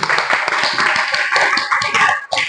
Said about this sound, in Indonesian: Tepuk tangannya dong biar semangat